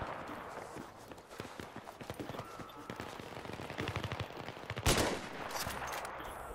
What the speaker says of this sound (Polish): Piękny strzał na maskę.